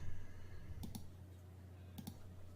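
Two pairs of quick, faint computer mouse clicks sound about a second apart over a low steady hum, the first double click near the start and the second near the end.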